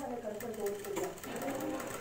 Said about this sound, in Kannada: ಚೆಸ್ಟ್ ಡಾಟ್ನ ನಾನು 2 ಇಂಚಲ್ಲಿ ಗ್ಯಾಪಲ್ಲಿ ಸ್ಟಿಚಿಂಗ್ ಮಾಡ್ತಾಯಿದ್ದೀನಿ.